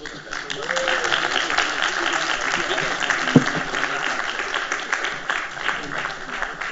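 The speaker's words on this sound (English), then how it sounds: "give them 1 minute so that they can take another applause from you" Audience applause for participants at a quiz event, sustained dense clapping from a crowd held at a steady level for several seconds, with a single louder clap standing out midway.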